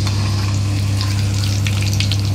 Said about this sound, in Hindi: ये गया हमारा गर्मा गर्म तेल में मटर का कचौड़ी